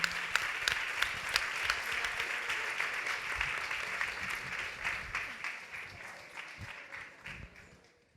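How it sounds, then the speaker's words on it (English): Audience applause at a women's empowerment luncheon, a sustained round of clapping from a crowd that stays steady for several seconds and then gradually tapers off. "They do deserve a round of applause for being an inspiration in each of their fields"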